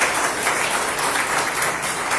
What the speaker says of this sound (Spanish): Den un aplauso fuerte a Dios